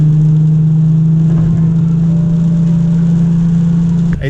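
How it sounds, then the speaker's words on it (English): A 2016 Nissan 370Z fitted with a Greddy Evolution GT cat-back dual exhaust gives a loud, steady, low engine drone close to the microphone that holds for several seconds, then cuts off abruptly at the end. "here's a little rev."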